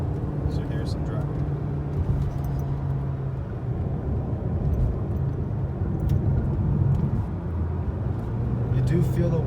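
A Pontiac G8 GT, a 4,000-pound sedan, drives along the road with a steady low engine drone and tyre and road rumble heard from inside the cabin, continuous and moderately loud throughout.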